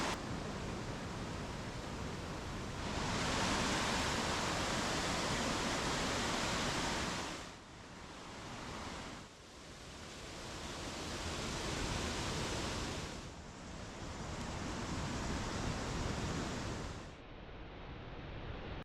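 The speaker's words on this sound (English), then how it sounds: "the cascades grow larger and you can get up close to the rushing water" Rushing water of the waterfalls and cascades in Krka National Park, a loud, dense, continuous roar that swells and drops in sections as the position shifts, with no voices.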